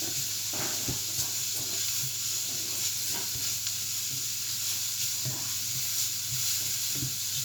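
Spelt grain frying in a pan, a loud continuous sizzle and hiss with intermittent soft knocks and scrapes from stirring, close up, with no talking.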